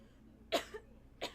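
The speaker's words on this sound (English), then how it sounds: "Oh, why did it get me coughing?" A person coughs twice, short, faint and close, with a quiet pause between the two coughs.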